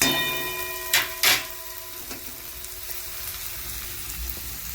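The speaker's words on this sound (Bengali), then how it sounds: "আমাদের মশলা ভাজা হয়ে গেছে, এবার এর মধ্যে আমরা চিকেনটাকে অ্যাড করে দেবো।" Chicken pieces dropped into frying spices with ginger in a pan, giving two sharp bursts of sizzle near the start that settle into a steady, quieter crackle.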